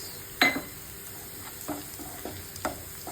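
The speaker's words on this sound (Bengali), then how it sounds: "গ্যাসটা ফ্রাই হয়ে গেছে এখন দিয়ে দেবো শুকনো মরিচ" Dried red chillies frying in a pan, a soft sizzle under a few separate stirring scrapes and light clinks of a utensil.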